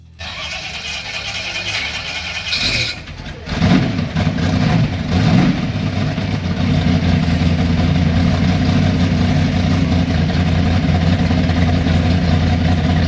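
A Pontiac 301 V8 in a 1968 Firebird racecar starts up with a brief crank and catch, then settles into a loud, steady, rumbling idle that continues close by to the end.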